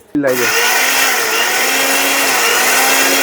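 A NIYAMA blender grinds raw cumin seeds into powder, switching on abruptly with a loud, steady high-pitched motor whine that holds for several seconds.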